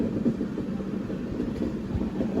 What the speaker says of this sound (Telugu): అవుటర్లో ఏదో ట్రైన్ ఉంది, ఏ ట్రైన్ చూద్దాం ఆగండి